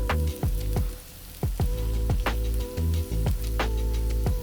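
Olive oil sizzles loudly on a Steelmade flat top griddle at medium heat, a steady close frying hiss with crackling pops and repeated sharp spatters throughout, no voices.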